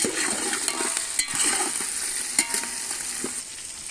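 Carrot and potato pieces fry in a pan over a village wood fire for vegetable biryani, giving a steady close hiss with a few sharp clicks of a utensil against the pan.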